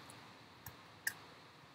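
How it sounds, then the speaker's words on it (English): Two or three faint, sharp clicks sound in a quiet room, the last one crisper and louder, like the bracket key next to P on a computer keyboard being pressed. "I click the bracket next to my P on the keyboard"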